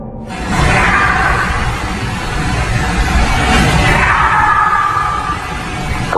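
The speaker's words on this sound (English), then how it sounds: "An unknown voice yells out from somewhere nearby." An unknown voice yells in a haunted location aboard the RMS Queen Mary: a loud, drawn-out cry buried in harsh, continuous broadband noise for several seconds.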